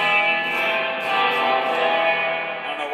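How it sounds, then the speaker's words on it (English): An electric guitar played through a Holy Grail reverb pedal set very deep, a sustained chord smeared into a long shimmering wash of reverb that swells gently over a few seconds, played alone. "It does have a great convincing reverb sound though,"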